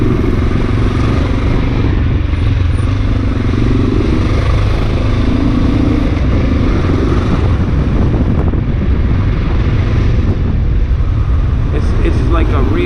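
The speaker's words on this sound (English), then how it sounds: "The stock exhaust on the XR is decent." A Honda XR650L motorcycle with its stock exhaust on the road toward Brooklyn, its engine drone continuous and loud under heavy rushing wind buffeting, with occasional clattering.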